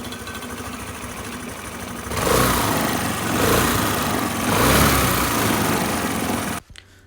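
Honda Dio scooter engine, previously suffering starting trouble, running after a kick start, a steady buzzing idle that revs up twice, then cuts off abruptly near the end; no talk.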